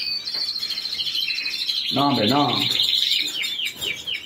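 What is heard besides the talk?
pet birds (canaries) chirping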